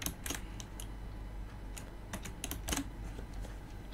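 Computer keyboard keys tapped in quick irregular bursts while coding, close and fairly quiet, with short pauses between clusters of clicks over a low steady room hum.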